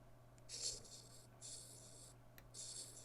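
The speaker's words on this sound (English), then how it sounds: "So here we're going to do a little screen write." Stylus writing on a Galaxy Z Fold 5 screen, giving three soft scratchy strokes of under a second each with short pauses between them, close and faint over a low steady hum.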